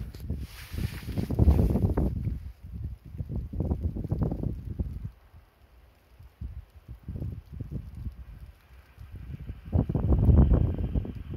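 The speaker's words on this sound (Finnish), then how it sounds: "taas oli niin kova tuulipuusko, että viskas poikittaa" Strong wind gusts of around 15 m/s buffet the microphone outdoors near a small wind turbine, roaring in loud surges that drop briefly to a lull midway, then swell again; no talking.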